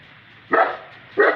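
A dog at a country dacha barks twice as a neighbour drives past, two loud, close, sharp barks about half a second apart with quiet in between.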